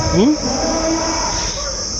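Yoked bulls used for ploughing and bull races give a short, close lowing moo, one rising call that fades against a steady outdoor hiss.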